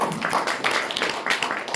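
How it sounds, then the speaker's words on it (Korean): Audience applause at an autumn policy forum of maritime and shipping labor unions, as attending union leaders are introduced: many hands clapping at once in a dense, continuous patter, fairly close and steady, with no voices over it. "박수 부탁드리겠습니다"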